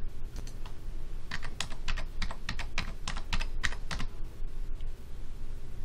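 Steady typing on a computer keyboard while entering an IP address for time clock hardware, a close run of quick, even key taps lasting several seconds with a faint background hum.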